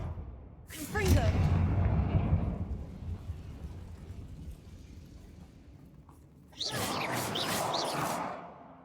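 Fire-blast spell explosions from the Hogwarts Legacy video game: a loud, broad whooshing burst with a low rumble that trails off, then a second bright crackling blast near the end, with voices calling out over it.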